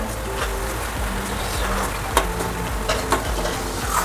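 Maggi noodles cooking in a pan give a steady, close sizzle and frying crackle, broken by scraping stirs and a few sharp clicks of the spoon against the pan.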